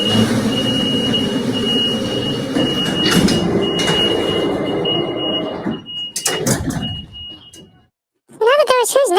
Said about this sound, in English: So what we need to do first is close the door.